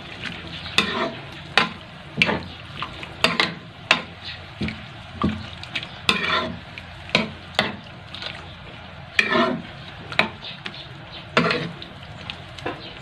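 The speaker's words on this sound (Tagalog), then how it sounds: "Haluin natin. Haluin natin." Igado, a Bicol-style pork and liver dish with dried fish, stirred in a frying pan, giving repeated scraping strokes over a steady sizzle, close and clear with no talking.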